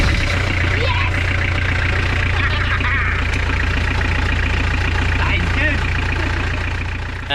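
A sailboat's engine idles loudly and close by in a constant low, throbbing chug, with mechanical clatter layered over it for the whole stretch.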